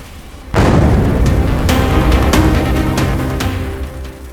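A massive explosion as the TAM Flight 3054 Airbus slams into a building beside a petrol pump, a sudden loud boom followed by a sustained roaring rumble with crackling bursts, gradually fading.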